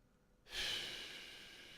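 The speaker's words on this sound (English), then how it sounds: "It's a lung. It's breathing me in and out." A giant breathing lung in Quest for Glory IV: Shadows of Darkness gives a single deep, airy whoosh that swells suddenly and then slowly fades, heard alone without talk.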